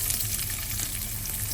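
Onions fry in oil in a pan while dry shrimp fry is being cooked, producing a soft, constant sizzle at moderate distance with no talking over it.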